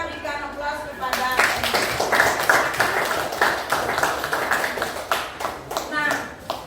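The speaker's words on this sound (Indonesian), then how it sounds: "kita berikan aplaus kepada" Classroom applause from a group of students, a steady, fairly loud patter of many clapping hands lasting several seconds, with voices mixed in underneath.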